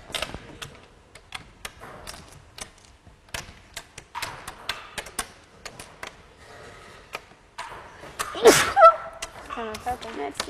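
A single sharp sneeze near the end, loud and close, following a stretch of quiet clicks and small handling noises.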